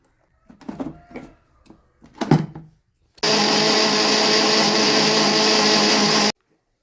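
Mixer grinder blending henna leaves, aloe vera, neem leaves and hibiscus flowers into a hair pack, a loud steady motor whir running about three seconds then cutting off, preceded by a few knocks and handling sounds.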